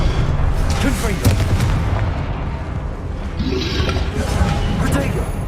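Confringo fire blast spells in the Hogwarts Legacy video game, a run of deep booming blasts and rumbling bursts, loud and close, with a voice talking between impacts.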